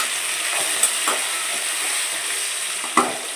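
A spoon stirs fish curry with drumsticks and salt in a pot, giving a soft continuous scraping hiss with a few sharper knocks against the vessel, close up.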